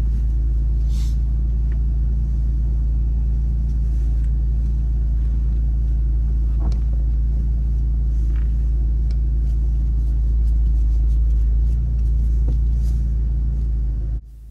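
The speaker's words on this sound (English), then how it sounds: "reverse the car out, make the back of the car go to the left, please, so we can exit the car park" A car reverses slowly out of a car park, its engine giving a steady, close low rumble with faint interior clicks and no talk, ending abruptly.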